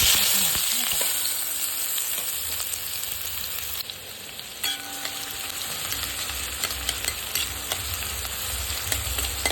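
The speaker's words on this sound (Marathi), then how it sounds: "तेल तापलं आहे आता त्याच्यामध्ये आपण कांदा टाकून घेऊया" Onion frying in hot oil for a dill greens vegetable dish, a loud continuous sizzle that stays dense and steady, with occasional stirring scrapes and clinks.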